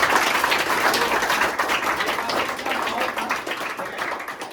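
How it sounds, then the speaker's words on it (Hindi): Audience clapping at a junior debate competition in a school setting: brisk applause from a room of children and adults, strongest at the start and thinning a little toward the close. "आप लोग अपने लिए एक बार जोरदार तालियों से खुश के लिए स्वागत करें"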